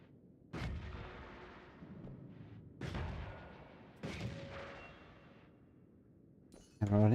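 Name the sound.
fireball spell explosions in a video game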